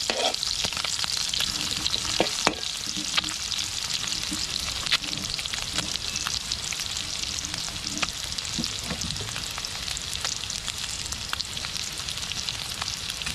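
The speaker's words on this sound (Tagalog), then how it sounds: "Gisa-gisa po ulit." Onion sautéing in a pan for ginisang patola hisses in a constant, close sizzle, with faint clinks and stirring scrapes throughout and no talk.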